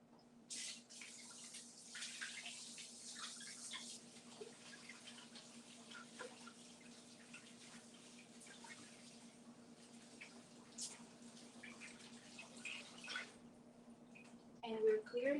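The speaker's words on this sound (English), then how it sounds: "I'm gonna give my hands a quick wash." Kitchen tap running steadily while hands are washed at a sink during gyro dough preparation, a close, continuous hiss of water with a faint hum underneath and a brief clatter at the end.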